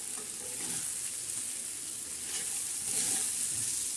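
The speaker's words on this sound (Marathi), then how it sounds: "आता मस्तपैकी अशी छान असं आता हलवून घेऊया" Chana dal, green chillies and garlic frying and being stirred in a pan, giving a steady, close sizzle with gentle scraping that swells slightly toward the end.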